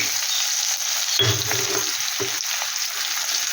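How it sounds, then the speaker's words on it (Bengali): Chopped onion frying with whole cumin and whole garam masala in a pan, a constant bright sizzle with a couple of low clunks of stirring. "পেঁয়াজটাকে একটু ভালো করে আমি ভেজে নেব"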